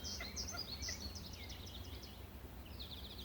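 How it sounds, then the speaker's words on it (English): Two woodpeckers call back and forth outdoors on a spring walk at a nature center, a series of short rapid chattering notes over low background rumble. "Those are two woodpeckers. They're having a conversation about who should be here and who should probably fly away."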